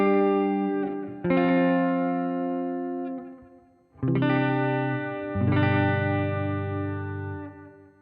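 Electric guitar on the neck pickup through an Ampero One amp rings out in sustained chords, three strummed attacks each left to decay, loud and clear with no talking.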